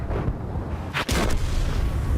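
A 105mm tank gun firing an armor-piercing round in the World of Tanks video game: one sharp, booming shot near the middle, over a steady background rumble.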